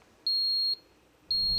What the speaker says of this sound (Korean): 알람이 또 울리는 겁니다